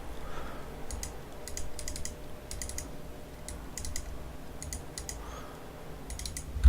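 Keyboard shortcuts are typed on a computer keyboard while setting up PLC timing-chart parameters, quick bursts of crisp key clicks in short clusters with brief pauses, close and quiet with no talk.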